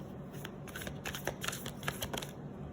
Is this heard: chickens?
no